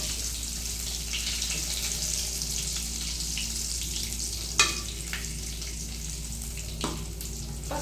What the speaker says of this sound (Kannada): ಸ್ವಲ್ಪ ನೀಟಾಗಿ ಬೇಯಬೇಕು, ಅದು ಎಣ್ಣೆಯಲ್ಲಿ ಫ್ರೈ ಆಗಬೇಕು.